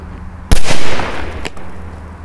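A powerful firecracker bursts under a toy truck, one sharp loud bang followed by a crackling burst and a second smaller pop, then a fading hiss of debris.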